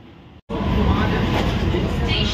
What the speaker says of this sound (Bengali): আর এই মুহূর্তে ট্রেনটি এসে পৌঁছলো খড়দা স্টেশনে